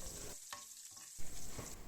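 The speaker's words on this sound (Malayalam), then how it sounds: "വറ്റലമുളകും കുറച്ച് കറിവേപ്പിലയും ചുവന്നുള്ളി എല്ലാം കൂടി ഇട്ട് നന്നായിട്ടൊന്ന് മൂപ്പിച്ചെടുക്കാം, ഒന്ന് വറുത്തെടുക്കാം" Dried red chillies, curry leaves and shallots frying in hot oil for a chutney tempering, a close, steady crackle with brief dips and a short louder burst near the end.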